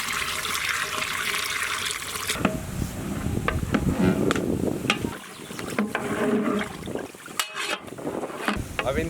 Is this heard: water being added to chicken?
yes